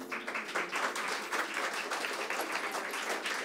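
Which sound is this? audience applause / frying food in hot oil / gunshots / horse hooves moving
audience applause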